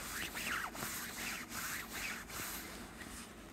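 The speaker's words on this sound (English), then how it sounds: "So that was me rubbing my jacket." A jacket being rubbed close up, giving soft, continuous fabric swishes and scratchy rustles in repeated strokes with no speech.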